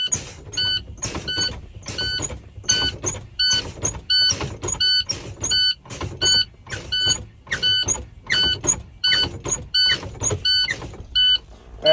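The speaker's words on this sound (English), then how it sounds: "I'm going to go ahead and fan my brakes." Truck air brakes fanned repeatedly during a Class B in-cab inspection, a rapid series of sharp hissing pneumatic bursts and clicks, close and loud, roughly two per second with no talk.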